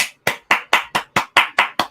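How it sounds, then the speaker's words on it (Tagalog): A single person clapping hands close up, nine sharp evenly spaced claps in a steady quick rhythm, each crisp and alone with no other sound. "Ayan ang mga palakpak."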